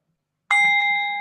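A meditation bell strikes once after a short silence and rings on with a clear, sustained tone that slowly fades, close and alone.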